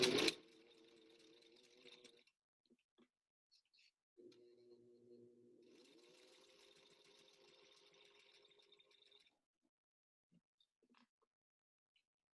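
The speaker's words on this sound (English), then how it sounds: "And I just sew along the edge of the presser foot." A sewing machine stitches a fabric mask in two short quiet runs, a faint steady whirring hum with brief pauses and small clicks between, following a sharp bump at the start.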